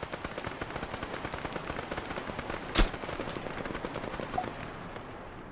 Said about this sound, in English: Someone shooting from Tower 4 as usual.